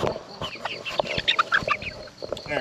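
A flock of free-range Americana chickens clucks and chirps continuously close by, overlapping calls in an irregular chatter with no one speaking.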